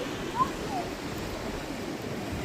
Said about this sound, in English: The waves are moving too much.